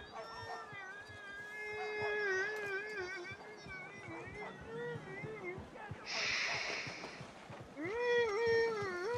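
A cat in the video game Red Dead Redemption meows and yowls repeatedly in long, wavering cries, with a loud burst of noise midway and another drawn-out howl at the end, fairly close and prominent.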